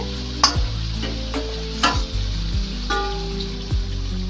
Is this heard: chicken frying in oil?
yes